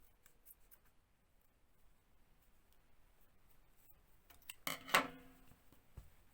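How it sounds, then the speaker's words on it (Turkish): Scissors snip crochet yarn, a couple of sharp close cuts near the end after a very quiet stretch of faint handling noise. "Hemen keselim burayı da."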